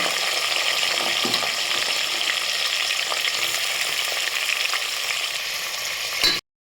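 Onions fry for prawn biryani in a loud, dense, continuous sizzle with occasional stirring clinks, close up. It cuts off abruptly at the end, with no voices.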